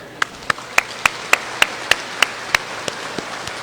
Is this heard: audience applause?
yes